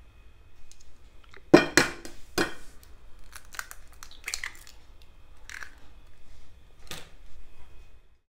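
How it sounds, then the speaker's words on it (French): Two eggs cracked against a bowl for a savory cake batter of olives, lardons and goat cheese, sharp close taps and shell snaps in a quiet kitchen with a few light clinks. "je vais casser les deux autres œufs"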